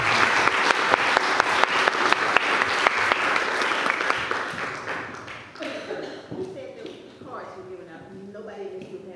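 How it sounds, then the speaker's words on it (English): Audience applause at a school board candidates forum, dense steady clapping from a room crowd that tapers off, with a voice starting to speak as it fades. "So a round of applause"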